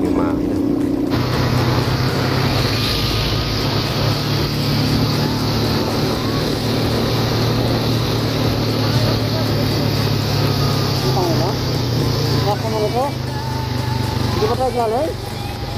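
Vehicle engines, including four-wheelers, labour up a steep road in Baguio City, a steady loud droning rumble that persists throughout, with a higher whining rev rising late on and a voice talking over it.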